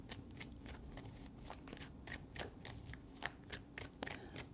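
Tarot cards being shuffled up close, a quick series of crisp papery riffles and flicks repeating steadily with no voices.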